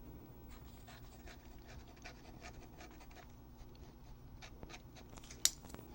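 A Pilot Decimo fountain pen nib scratches across Koji paper in quick, faint, close-up strokes, a steady dry rhythmic ticking with one brief sharper scrape near the end.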